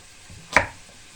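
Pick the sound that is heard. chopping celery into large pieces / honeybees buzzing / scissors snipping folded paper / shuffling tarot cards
chopping celery into large pieces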